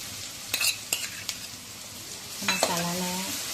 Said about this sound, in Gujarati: હવે આ તેલ ગરમ થઈ ગયું છે, એની અંદર જીરું નાખવાનું છે, થોડી સી હિંગ નાખવાની છે